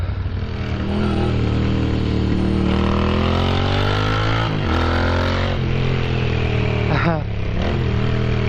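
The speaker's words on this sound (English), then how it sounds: "My number plate placement seems to cause my exhaust pipe to whistle a little bit" Moto Guzzi V7 motorcycle exhaust whistles faintly under steady engine drone while riding, with rising and falling pitch sweeps near the end.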